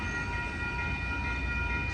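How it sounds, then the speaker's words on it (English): The Amtrak Coast Starlight passenger train rolls past at 98th Avenue in Oakland, California, giving a steady, continuous rumble with sustained tonal whine from the rail cars, moderately loud and without voices. "All right, folks, look at that train."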